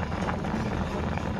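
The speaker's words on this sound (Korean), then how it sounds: "이게 지금 수제비가 끓고 있는 소리를 들려드릴게요." Sujebi, a hand-torn dough soup, simmers in a pot at a market eatery in Ilsan Market, giving a steady, close, low bubbling hiss with no voices over it.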